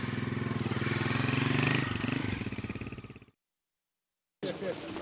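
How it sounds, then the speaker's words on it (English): A motorcycle on a road in Afghanistan drones past close by, its engine rising and then fading before sudden silence, followed by a short burst of renewed noise. "Big time motorcycle coming through."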